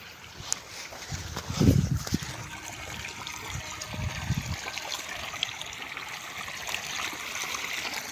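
Irrigation water from a pump motor flows and trickles into a field channel in a steady, soft outdoor wash, with a couple of louder gurgling splashes early on.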